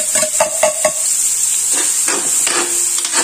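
Garlic and onion sautéing in oil for lomi, with a steady loud sizzle and hiss beneath a quick series of spoon or spatula taps and stirring scrapes against the pan.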